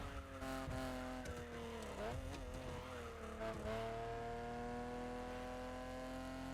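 A modified Toyota 2000GT in a racing video game holds a loud, steady exhaust drone with layered harmonics. The pitch dips and wavers through a brief tire squeal and skid midway, then the engine settles back to a constant, close roar.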